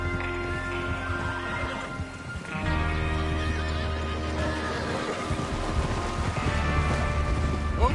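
In the video game Red Dead Redemption 2, horses whinny and neigh while hooves clop over a steady ambient bed, with a brief lull before the noise swells again.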